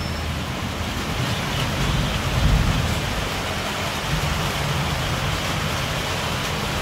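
Steady evening rain pours outside in Assam, a dense continuous hiss with a low rumble swelling briefly midway, no voices, close and even throughout.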